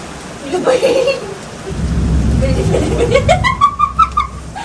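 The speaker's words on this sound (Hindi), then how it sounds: "अभी तो बहुत तेज बारिश हो रही है" Heavy rain with rumbling thunder, a loud low roll building midway under the steady downpour, while a person talks briefly and a few birdlike chirps rise near the end.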